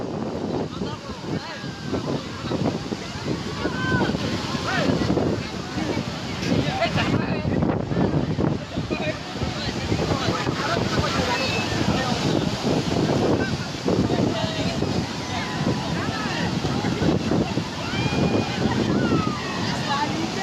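Sea waves break on Puri beach, a steady roar of surf with heavy wind buffeting the microphone throughout, and voices occasionally heard under the noise.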